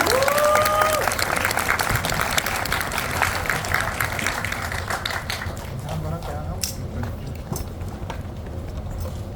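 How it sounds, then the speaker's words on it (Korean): A cinema audience at a guest visit screening applauds four guests on stage, a sustained wash of clapping from a large crowd that thins gradually, with scattered louder claps and voices over it. "여기 계신 네 분께 다시 한번 큰 박수 부탁드립니다"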